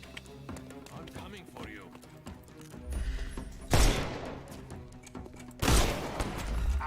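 Gunfire in the video game Sherlock Holmes: Chapter One: two loud, sharp blasts roughly two seconds apart, standing out over a busy in-game soundscape with footsteps and ambient effects.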